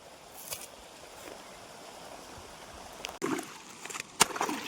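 Irrigation water being diverted by a farmer flows and gurgles quietly, with scattered rustles and clunks growing louder toward the end.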